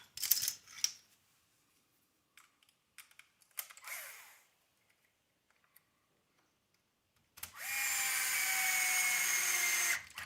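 Power driver whirring steadily for a few seconds while screwing the front shock tower onto an SBX-1 RC car front clip, preceded by scattered clicks and handling noises.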